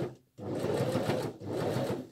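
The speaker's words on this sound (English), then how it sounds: "So I'm sewing up the edge." A sewing machine stitches along the edge of a welt pocket on a coat or jacket in two steady runs of rapid stitching, split by a short pause near the start and a brief dip midway, close and clear.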